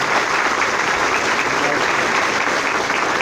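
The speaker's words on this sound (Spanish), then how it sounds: "Les pido un fuerte aplauso para recibirlo a Santiago de Santiago." Audience applause welcoming the guest speaker at a conference on computer ethics, hackers and human rights; steady, dense clapping fills the room at even loudness throughout.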